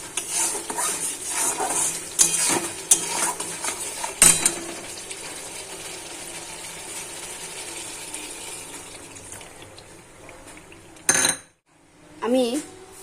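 Metal utensils clank and scrape against a pan of cooked-down spice masala as coconut milk goes in for a Barishal-style prawn dish, with a busy clatter early on, quieter stirring after, and a brief loud burst near the end.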